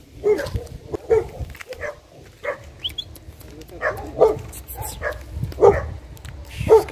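Dogs bark repeatedly from behind a fence at night in short, scattered yaps and woofs, moderately loud, mixed with some talking and background noise.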